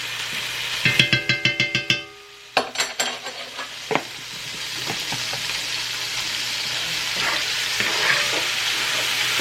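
Garlic stirred into a hot frying pan, a series of quick metallic scrapes and clinks up front, then a steady sizzle that carries on with occasional spoon taps against the pan.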